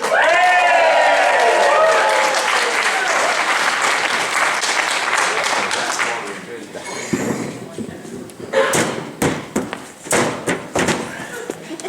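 A live comedy audience cheers and claps loudly as the final act of the evening is introduced, a dense roar of applause that fades into scattered claps and then stops, with a voice starting to talk near the end.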